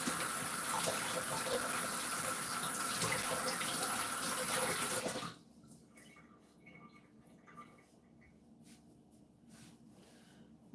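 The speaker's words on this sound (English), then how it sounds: "Let me rinse off my hands." Hands rinsed under a running water tap: a steady, loud gush of water for about five seconds, then the flow shuts off and only a quiet room remains.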